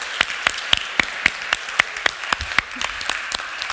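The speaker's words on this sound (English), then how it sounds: "please, another round of applause for Rob." Steady, rhythmic clapping from a small group, sharp claps repeating evenly at close range with no voices over it.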